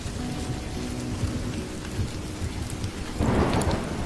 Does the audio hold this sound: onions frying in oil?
no